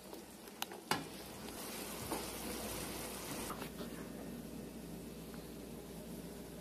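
Seasoned ground meat for taco salad sizzles and fries steadily in a pan, a constant crackling hiss with a few sharp clicks early on, no voices.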